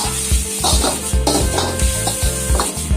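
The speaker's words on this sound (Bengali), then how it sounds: "এখন একটু ফ্রাই করা হবে" Thinly sliced cabbage and carrot stir-frying in hot oil for egg Schezwan noodles, a steady sizzle broken by rhythmic clanks of a spatula against the pan, close and continuous.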